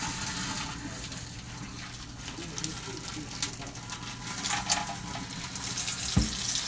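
Cooked lasagna pasta is drained in a kitchen sink, a steady soft gush of running water with splashes building slightly toward the end, fairly quiet and close.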